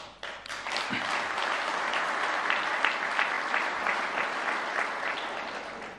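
A large audience at a political speech gives loud, continuous applause, building within the first second and staying dense and even to the end.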